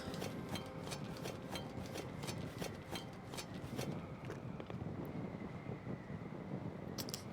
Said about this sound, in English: So the wind is destroying my wings today. It's blowing super hard.